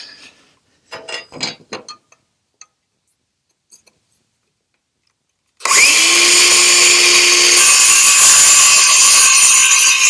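A power tool, apparently a saw or drill-type tool, cuts one inch off a wooden trailer bed board, starting after a few quiet handling clicks and then running loud and steady for several seconds.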